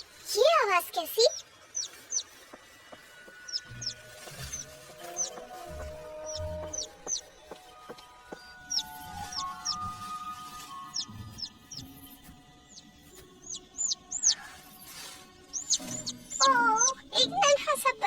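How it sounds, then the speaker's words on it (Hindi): A small bird chirps in a Hindi Barbie cartoon, giving short high-pitched tweets in scattered clusters across the scene, with speaking voices and soft music in between. "एक नन्हा सा पंछी।"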